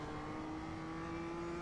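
A BMW M2 CS engine drones steadily under throttle in iRacing at Oschersleben. The engine note is continuous and close, with a sustained tonal whine and no talk over it.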